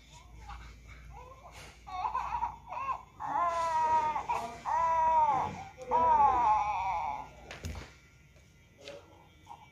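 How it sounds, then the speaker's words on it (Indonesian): A robot egg toy plays a baby bird crying sound as it hatches: a loud, continuous electronic wailing in rising and falling cries that lasts several seconds, ending with a few soft clicks. "ini pas menetas ada suara nangis dari bayi burungnya gitu"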